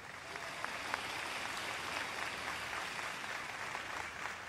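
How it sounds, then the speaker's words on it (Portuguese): A church congregation applauding the Lord during a service, a steady wash of clapping from many hands that holds evenly throughout without pause. "Dê um forte aplauso ao Senhor."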